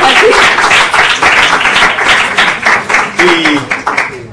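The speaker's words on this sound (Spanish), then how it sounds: "Un aplauso para Guadalupe" Audience applauds a volunteer named Guadalupe after a math-themed magic trick, loud close clapping that swells then thins into scattered claps, with brief voices mixed in.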